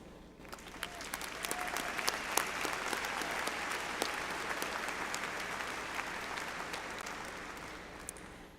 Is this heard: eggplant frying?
no